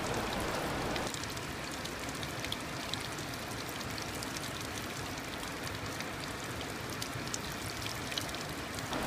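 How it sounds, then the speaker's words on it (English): A river pouring over a waterfall, a steady dense hiss of rushing water that stays even and unbroken throughout. "the river here goes over the waterfall and into the next part of the river"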